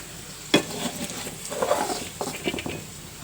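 Bitter gourd fries in hot oil in a pan, with a soft continuous sizzle broken by a few sharp scraping stirs and light clatters of a spoon against the pan, close and fairly quiet, no speech.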